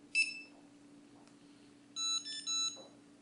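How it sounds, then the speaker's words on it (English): Cino pocket barcode scanner emitting a short series of electronic beeps while pairing, with a single tone at first and then a quick run of stepped beeps that rise in pitch, clear and close against a quiet background. "Once you hear four ascending beeps"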